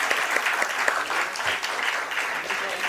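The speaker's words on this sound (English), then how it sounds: "Let's have a huge round of applause" An audience applauds at an NSE stock exchange listing ceremony for the TVS Industrial & Logistics Parks IPO, producing sustained thick clapping with some cheering that holds steady throughout.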